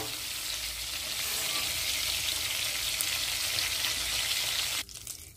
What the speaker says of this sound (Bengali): চিংড়ি মাছ বেশি ভাজবো না, ভাজলে শক্ত হয়ে যায়।